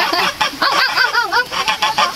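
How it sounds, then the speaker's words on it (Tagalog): Geese honk repeatedly in a noisy, overlapping flock, close by with harsh nasal calls and no talking. "tapos ito yung mga gansa na may ingay."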